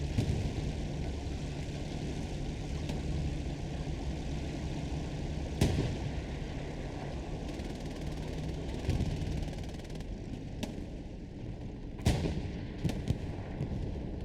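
Anti-tank gun fire in the World War II shooter Hell Let Loose, booming in a few sharp, scattered blasts over a steady low battlefield rumble.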